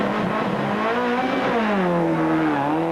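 Toyota rally car at the Cape Rally sliding in rear-wheel drive, its engine holding a loud, strained, sustained roar with a slowly wavering pitch and no voices.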